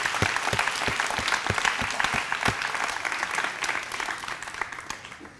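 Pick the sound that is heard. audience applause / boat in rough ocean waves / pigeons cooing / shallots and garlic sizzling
audience applause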